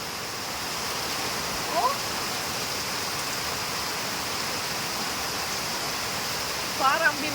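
Heavy monsoon rain pours down in a dense, steady roar in a Philippine province, with fast-running floodwater, while a voice briefly exclaims twice over the constant wash of sound.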